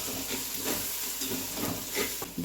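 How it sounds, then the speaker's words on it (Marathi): Red chili chutney roasting in a pan gives a steady, close hiss and sizzle with slight surges, continuing without talk throughout. "भाजून घेऊया जरा चटणी"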